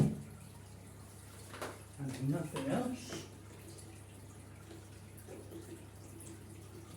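AquaSafe water conditioner is poured into aquarium water during a weekly water change, giving a brief soft splashing trickle lasting about a second, fairly faint, amid a low steady hum with a person speaking.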